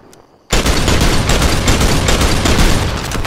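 Rapid, sustained automatic gunfire from video game weapons bursts in abruptly after a quiet moment, loud and dense, continuing without pause to the end.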